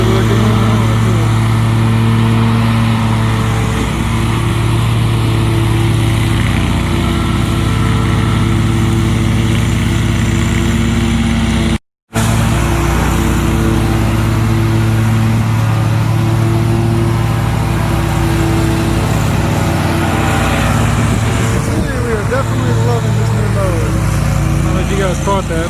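An Exmark Radius zero-turn lawn mower runs loud and near, its engine holding a steady drone that shifts in pitch as it works across the lawn, with voices talking over it and a brief dropout partway through.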